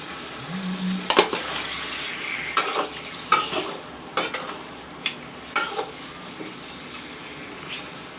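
Mutton curry frying in a pan after salt goes in, a soft steady sizzle broken by a series of sharp spoon scrapes and clinks against the pot as it is stirred.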